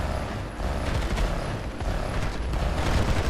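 Dense Planetside 2 gunfire crackles continuously, a busy spread of overlapping shots and battle clatter that sounds fairly close and stays loud throughout.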